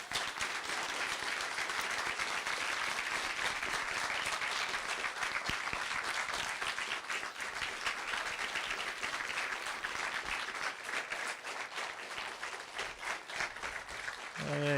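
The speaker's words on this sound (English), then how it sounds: "A round of applause for everybody." Sustained audience applause fills a live commentary livestream event, dense steady clapping and cheering throughout at a constant loud level, with no talk over it.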